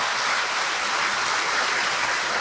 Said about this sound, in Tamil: நல்ல அப்ளாஸ் அந்த 2 பேருக்கு கொடுங்க